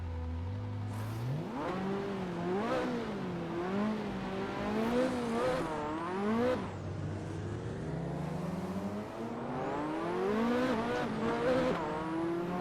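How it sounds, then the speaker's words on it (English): Race car in the Assetto Corsa video game on PS4, its engine revving and shifting in rising and falling sweeps, with repeated high-pitched brake squeals as it slows into corners, loud and close with no talk. "Listen to the brake squeal."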